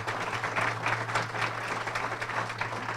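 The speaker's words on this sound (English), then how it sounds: "so let's give them a round of applause." A luncheon crowd at a State of the City event in Kent applauds volunteers with steady, fairly loud clapping throughout, over a low steady hum.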